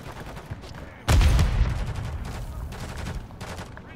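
Gunfire in a shooter video game opens with a sudden loud blast, followed by a rattling volley of further shots that fade and flare through the rest of the clip.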